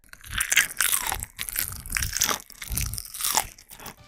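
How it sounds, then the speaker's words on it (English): Crunchy chewing and biting on KFC fried chicken, close and loud, in a steady run of crisp crunches with brief pauses between bites, no talking. "my love for Hachima's glorious chewing noises"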